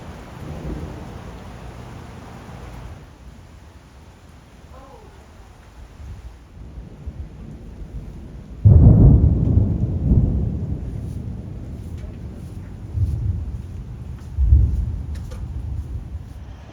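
Rain falls softly during a trail-town stopover on a Pacific Crest Trail thru-hike, then a heavy thunderclap booms in close and rolls on, followed by further lower rumbles of thunder under the steady patter.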